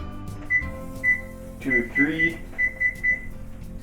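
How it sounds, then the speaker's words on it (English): A kitchen oven beeps as it is set to preheat for cooking sausage: a run of short, sharp electronic beeps in an uneven rhythm, close and clear, with a person speaking briefly over them. "I'm going to preheat the oven"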